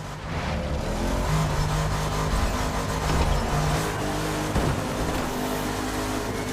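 Race cars roar in The Crew Motorfest, a video game, as a black car is driven flat out. A dense engine drone holds steady throughout, with revs rising and falling and brief tire noise.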